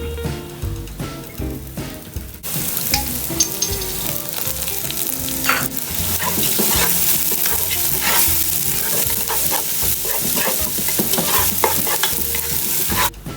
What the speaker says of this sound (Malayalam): അപ്പം നമുക്ക് ഇതിൻ്റെ അകത്തുള്ള ചെറുതായിട്ട് അരിഞ്ഞു വെച്ചിരിക്കുന്ന ഇഞ്ചിയും കൂടെ നമുക്ക് ഇട്ട് കൊടുക്കാം.